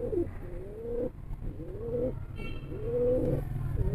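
A pigeon being held and inspected coos repeatedly at close range, giving three rising and falling coos in a steady rhythm.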